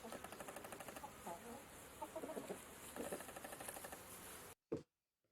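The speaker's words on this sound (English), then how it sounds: "H for hen." A hen clucks repeatedly in short bursts, close by, with a steady buzzing hum in the background, then a sudden stop and brief thump.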